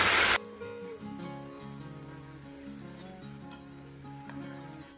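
Cumin seeds hit hot oil for a tadka tempering and give a short, loud burst of sizzling. The sizzle quickly drops to a faint fry under soft, tonal background music.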